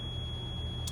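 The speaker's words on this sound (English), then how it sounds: "that beep goes along with this warning light right here, and that is for the tag axle" An RV coach cockpit warning beeps for a deflated tag axle: a steady high electronic tone sounds continuously over a low engine rumble, with no talking.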